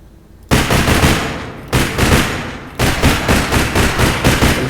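SR-15 rifle in APB Reloaded firing loud, dense rapid bursts, three separate strings of rapid automatic shots with brief pauses between them, alone with no talk.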